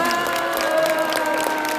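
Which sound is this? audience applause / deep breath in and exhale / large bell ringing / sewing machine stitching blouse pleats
audience applause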